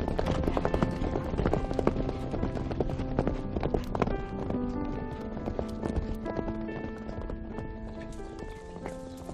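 Thoroughbred horses' hooves clip-clop at a stable, a dense rapid patter of hoof strikes with some clatter and background bustle, loud and continuous.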